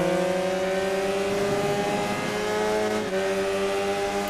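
Kawasaki motorcycle engine in a racing video game, a loud sustained high-revving whine with steady harmonic tones that dip briefly and rise again, continuous throughout with no talk.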